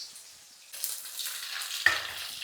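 Onion, chili and tomato sautéing for rava upma, a steady close sizzle that swells louder partway through as the pan fills, with a soft stirring scrape near the end.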